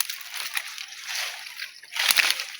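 Strong flow of water from a spring water source, a close, continuous rushing slosh and splash that surges louder near the end.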